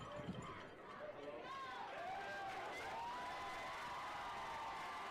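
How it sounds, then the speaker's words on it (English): Crowd noise from spectators at a Hanover vs Franklin college Division III football game after a touchdown run into the end zone, a steady broad roar with whistles and whoops, mid-distance and sustained throughout. "And the crowd starts to cheer."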